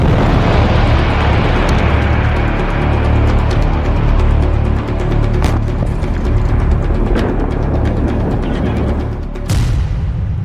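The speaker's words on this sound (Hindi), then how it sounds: "स्टॉर्म शैडो से भयानक हमले के बाद रूस के हथियार गोदाम में बेहद शक्तिशाली धमाका हुआ।" A loud, sustained roaring blast at a Russian weapons depot after a Storm Shadow missile strike, dense rumbling noise throughout, punctuated by a few sharper cracks and pops.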